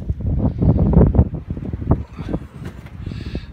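Strong wind gusting outside a cabin, buffeting the microphone with rough, uneven rumbling that swells and eases in waves, close and fairly loud with no talk.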